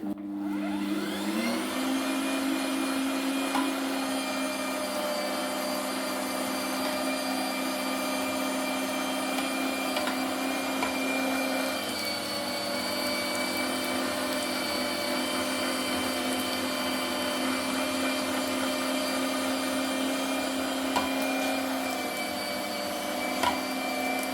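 An electric meat grinder mincing pork head and offal through a fine plate, a loud steady motor whine that runs continuously close by with no talk.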